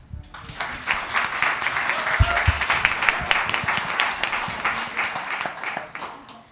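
An audience at a climate election candidates forum in Adelaide breaks into loud, sustained applause that swells and then tapers off over several seconds.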